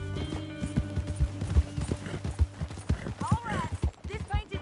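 Horse hooves clip-clop at a steady gallop in Red Dead Redemption 2, loud and rhythmic, under a character's voice talking.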